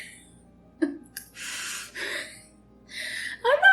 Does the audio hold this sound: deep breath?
yes